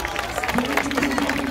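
Crowd applause for a team at an autumn sports day event, brisk clapping mixed with crowd noise and a voice talking over it, steady and moderately close for a short moment.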